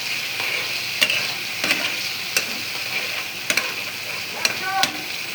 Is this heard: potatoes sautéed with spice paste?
yes